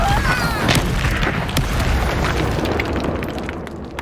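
Incendio fire spell in the Hogwarts Legacy video game, a burst of booming fiery blasts and crackling pops that fades into a rushing roar, loud and close.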